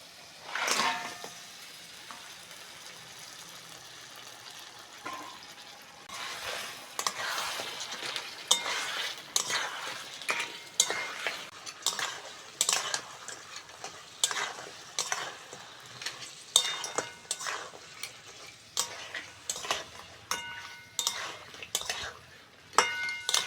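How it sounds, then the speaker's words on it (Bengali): Crabs frying in spiced oil in a pan, a steady sizzle under repeated scraping and clinking of a metal spoon stirring against the pan, the stirring strokes coming in an even rhythm after a brief quieter start. "মশলা থেকে তেল ছেড়ে দিয়েছে এবার কাঁকড়াগুলো দিয়ে দেবো"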